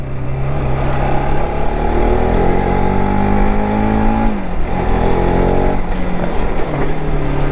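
Modified Bajaj RS200 motorcycle engine revving loudly and close, its pitch climbing in repeated pulls with a brief dip midway before rising again, and no talking over it.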